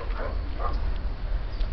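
A German shepherd gives unhappy yips and whimpering barks near its food. The sounds come in short, fairly close bursts over a steady low background rumble.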